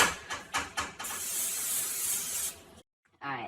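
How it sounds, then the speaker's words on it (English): Pam cooking spray is sprayed onto a baking pan in one steady hiss lasting over a second, close and loud, with someone talking before and after. "I was just told right now to spray this pan here with,"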